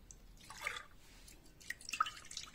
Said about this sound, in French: Je mets d'abord l'eau.